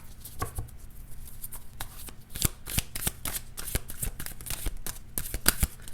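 Tarot cards being shuffled and drawn by hand, a quick irregular series of crisp riffling snaps and flicks, close and fairly loud with no talk.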